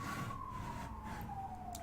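Wailing siren in the medieval fantasy strategy game Third Age Total War, a steady slowly falling tone held throughout at moderate level over a busy low rumble of game ambience.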